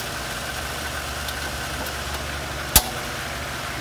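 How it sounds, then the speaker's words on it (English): An electric pool pump motor runs after its capacitor has been replaced, giving a steady low hum with a faint background hiss and one brief sharp click near the end. "The motor started."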